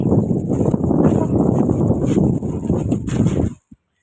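Gusty wind buffets the microphone in loud, low rumbling bursts for a few seconds, then cuts off abruptly into silence.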